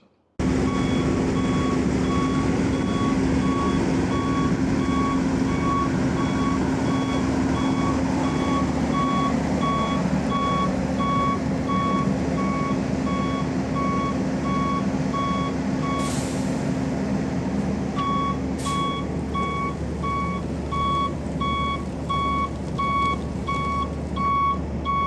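A concrete mixer truck reversing at a building-site pour, its backup alarm beeping loudly and steadily over a deep idling diesel rumble, with a brief hiss of air brakes partway through.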